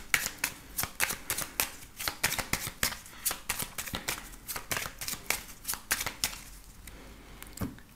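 A 32-card deck is shuffled and cut for a cartomancy reading, giving a quick run of crisp, riffling card flutters and slaps up close, steady and rhythmic throughout.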